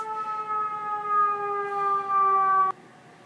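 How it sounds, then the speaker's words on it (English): A steady, droning siren passing outside holds a sustained multi-tone chord, moderately loud, then cuts off abruptly, leaving only faint background hiss. "Excuse me while I let the siren pass."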